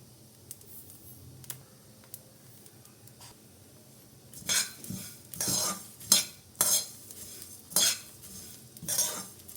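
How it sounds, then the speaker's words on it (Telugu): Coriander seeds, poppy seeds and whole spices dry-roasting in a pan for garam masala, first faint clinks, then a run of loud rustling, scraping stirs in an uneven rhythm, close and without speech. "ధనియాలు కొంచెం బ్రౌన్ కలర్ వచ్చే వరకు ఫ్రై చేస్తే సరిపోతుంది"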